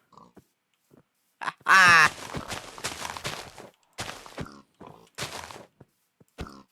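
Pig grunts and oinks from Minecraft with an immersive portals mod, heard as a few short game sound effects between bursts of a man's loud exclamations and chatter, with faint footstep-like clicks.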